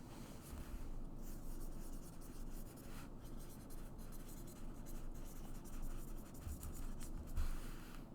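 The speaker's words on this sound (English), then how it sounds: "Let's write this title down." A pen scratches out a title by hand on paper, a soft continuous scribbling with short pauses between strokes, close and quiet with no speech.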